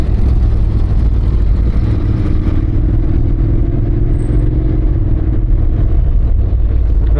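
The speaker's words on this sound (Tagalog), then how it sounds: "Grabe ang traffic dito oh." Dense road traffic surrounds a motorcycle rider, with a steady loud engine drone and low rumble running continuously, plus scattered clatter and passing-vehicle noise throughout.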